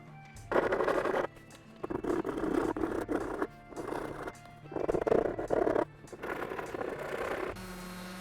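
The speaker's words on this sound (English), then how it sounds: "we're using a pretty aggressive file here, guys, like a rasp more than a file, to really get in there and dig that out" Coarse rasp file scraping the plastic airbox of a 2004 Honda CR250 motorcycle, heard as repeated close, loud strokes of about a second each, separated by short pauses.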